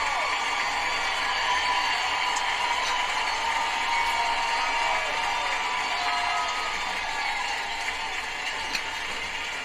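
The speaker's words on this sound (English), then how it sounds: "And there's the big applause." A big stadium crowd cheers and applauds in a steady, distant roar that holds for the full stretch, with scattered whoops rising now and then.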